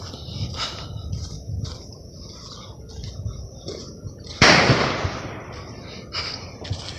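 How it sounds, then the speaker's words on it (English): Fireworks going off at a distance in a city at night, a scatter of faint pops followed by one louder crackling burst, over outdoor ambience while walking. "It's just the fireworks."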